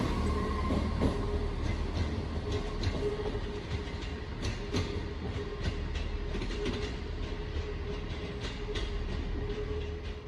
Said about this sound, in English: Departing out now is the delayed 1703 Northern service to Hexham, starting here at Newcastle.